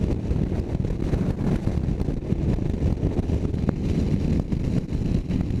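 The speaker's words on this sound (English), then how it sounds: "the wind buffeting is a bit much." Steady, heavy wind buffeting roars against the microphone while riding a Victory Hammer 8-Ball motorcycle, a continuous low rumble with no letup.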